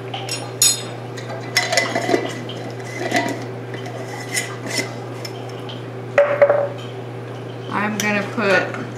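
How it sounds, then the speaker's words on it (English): A spoon taps and scrapes as mesquite powder goes into cups, with light clinks of dishes and cutlery in a kitchen while a person talks over the sounds. "I'm putting 1/2 tablespoon of mesquite powder."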